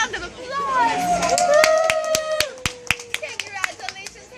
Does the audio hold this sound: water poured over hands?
no